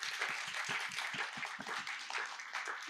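A conference audience at the MIT Global Humanities Initiative applauds, dense steady clapping from many hands filling the room evenly for the whole stretch.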